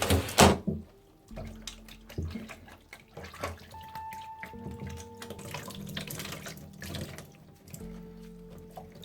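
Tap water runs and splashes in a sink while a rabbit with soiled, crusted fur is washed, flowing in bursts between handling noises and short pauses.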